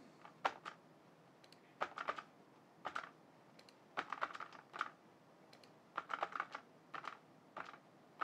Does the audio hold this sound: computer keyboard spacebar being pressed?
yes